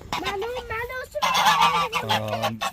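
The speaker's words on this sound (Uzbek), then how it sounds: "Mana bu g'ozlar ekan." Several geese honk loudly and close by, their harsh calls overlapping in a noisy cluster that continues without pause.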